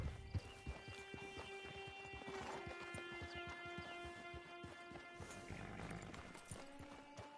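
Horse hooves clip-clop in a steady rhythm in a PS4 video game, along with a constant tonal hum, some soft whinnying, and a faint background drone.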